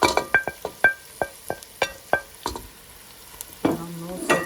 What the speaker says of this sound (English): the potatoes are a bit soft now, so I'm going to add the onions in, and I'm also going to add a few of the spices in.